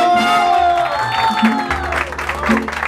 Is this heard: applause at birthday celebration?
yes